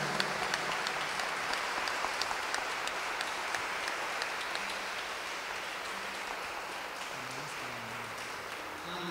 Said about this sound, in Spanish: Un fuerte aplauso para ellas y para ellos.